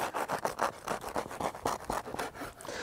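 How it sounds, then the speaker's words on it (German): A knife saws back and forth through a slice of grill-baked gorgonzola focaccia, a close, rhythmic scratchy rasping of repeated strokes through crust and bread, with no talking. "Und jetzt schneide ich mal hier so eine Tranche runter."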